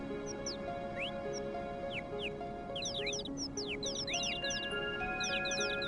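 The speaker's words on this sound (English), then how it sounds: "run along the tracks, hear some birdies chirping" Birds in the Final Fantasy VII video game, with quick repeated chirps and tweets scattered over a steady background tone and music, faint and continuous.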